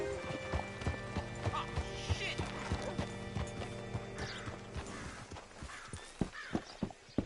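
Horse hooves clip-clop steadily at a walking pace, with a horse whinnying briefly and faint mechanical clanks in the background, in the video game Red Dead Redemption 2.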